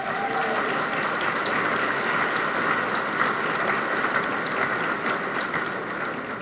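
Steady applause fills a room at an awards dinner honouring Crime Stoppers students, dense and even clapping from a large seated crowd that holds at full strength throughout.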